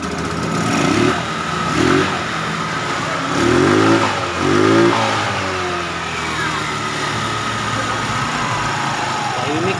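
A Rusi scooter fitted with a 59 bore cylinder and ported head revs in a series of rising and falling bursts over a steady close idle, loud and rough.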